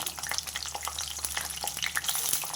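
Slit ivy gourd pieces frying in hot oil, a loud close sizzle with crackles and spatters and the steady rumble of a stove underneath.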